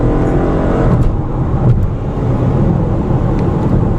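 An engine hums steadily from inside a 2015 Ford Mustang with an 8-speed automatic, a smooth continuous drone with road noise and no gear-change jolts.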